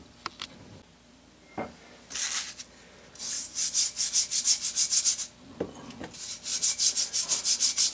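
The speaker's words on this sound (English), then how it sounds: "I'm just going to real quickly run my fingernail brush over that" Fingernail brush scrubbing a rusty part in clean water, bursts of brisk rhythmic bristle strokes close up, separated by a few knocks and splashy handling sounds.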